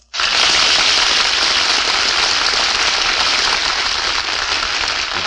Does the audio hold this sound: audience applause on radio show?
yes